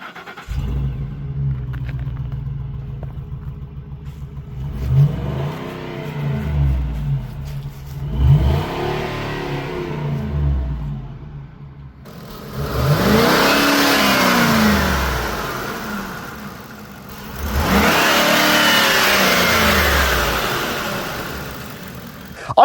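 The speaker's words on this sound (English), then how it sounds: "Now this engine is running nice and quiet" A high-mileage 2011 Ford Expedition's 5.4-liter Triton V8 idles and then revs up and down several times in loud, swelling bursts, heard up close.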